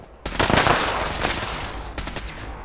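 Automatic gunfire in Fallout 76 shoots at player-built roofs. Loud, close bursts of rapid shots fill most of the span, then a second short burst follows.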